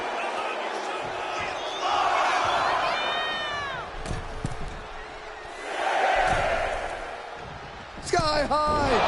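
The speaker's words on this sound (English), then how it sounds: "Tony D'Angelo hyping up the crowd." An arena crowd at a wrestling match in the video game WWE 2K25 roars steadily, swelling in loud waves with scattered shouts and shrill whistles cutting through.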